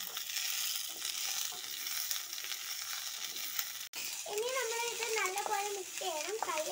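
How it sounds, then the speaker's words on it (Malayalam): Pickle mixture being stirred and mixed in a pan, a steady sizzling, scraping texture running throughout, with a voice speaking over the latter half. "ഇനി നമുക്ക് ഇത് മിക്സ് ചെയ്തെടുക്കാം."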